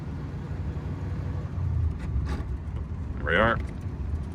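A 1931 Packard 840 Dual Cowl Sport Phaeton cruising in high gear, its engine a quiet low rumble with road noise underneath, while someone talks briefly over it.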